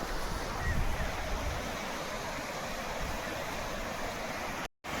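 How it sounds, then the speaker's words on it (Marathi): The Mula river runs full after an upstream dam fills, a broad continuous rush of flowing water heard from nearby with a steady roar and a brief dropout near the end. "ते धरण भरल्यामुळं पाऊस चांगला झाल्यामुळं पाणी आलेलं आहे नदीला"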